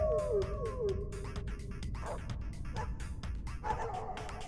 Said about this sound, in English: He created an army of beagles in the sewers.